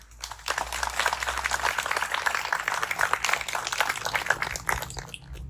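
A crowd applauds steadily at an outdoor Memorial Day ceremony, dense clapping sustained for several seconds before tapering slightly at the end.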